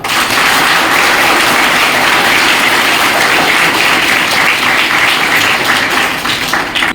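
Steady, dense applause from an audience at a public event, loud and continuous for about seven seconds before trailing off, with no voices over it.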